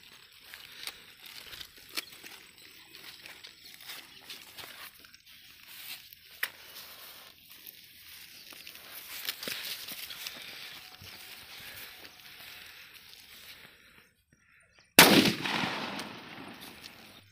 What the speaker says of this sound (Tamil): ஸோ சூப்பர் ஸ்டார் வெடி தான் அடிக்க போகிறோம்.